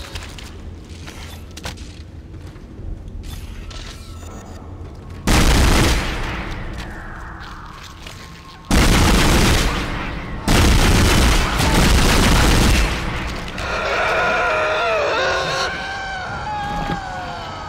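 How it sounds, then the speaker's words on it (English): Pulse rifle fire in the sci-fi horror game Dead Space, loud sustained bursts of rapid automatic gunfire in several long volleys, with booming impacts and creature shrieks between them. "Pulse rifle this thing."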